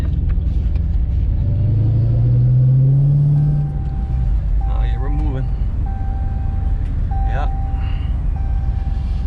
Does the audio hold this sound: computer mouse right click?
no